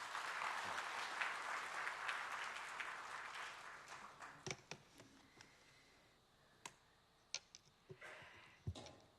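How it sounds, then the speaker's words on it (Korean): Church congregation claps to welcome a guest speaker at an afternoon worship service, a broad wash of applause that swells in the first few seconds, then thins out into scattered individual claps and taps before fading. "우리 박수로 환영하겠습니다."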